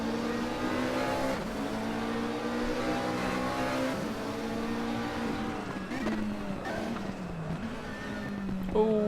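McLaren 650S GT3 race cars in a racing video game at Twin Ring Motegi Road Course, engines droning loudly with rising and falling revs as they run together, under commentary.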